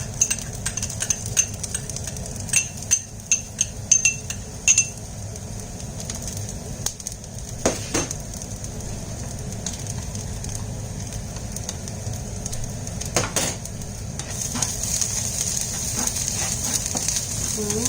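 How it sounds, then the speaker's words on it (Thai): Garlic fries in a hot new wok with a steady close sizzle. Scattered metallic clinks and scrapes from stirring cut through it, and a voice speaks briefly now and then. "เดี๋ยวเราจะใส่กระเทียมลงไปเลยนะคะเพื่อน กระทะร้อนแล้วนะคะ"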